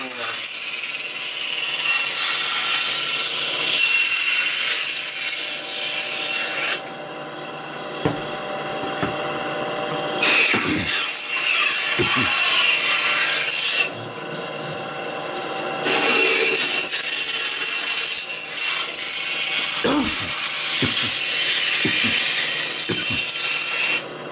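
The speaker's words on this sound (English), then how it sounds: "we've got the ends trimmed in the bandsaw" Foam wing core ends trimmed on a bandsaw, the saw humming loudly and steadily with rasping cutting noise, pausing twice into quieter idle gaps with small knocks before the cutting resumes.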